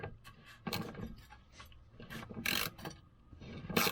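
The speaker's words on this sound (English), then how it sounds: "So we take these 2 bolts out." A ratchet works on 14 mm bolts on a Volvo 240, giving close, loud bursts of rapid mechanical clicking and metallic ratcheting in irregular spurts, with brief pauses and scraping in between.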